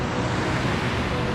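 Steady broadband rush of a man-made waterfall beside a trail in Zion National Park, loud and continuous throughout with no voices over it.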